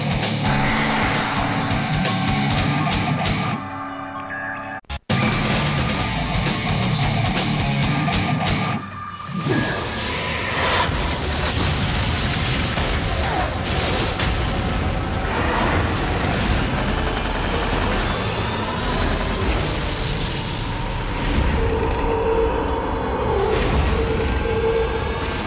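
Gears of War video game trailer audio: dense, loud gunfire and heavy explosions rolling continuously, with a brief cut near five seconds and a momentary dip around nine seconds before the barrage resumes, no talk.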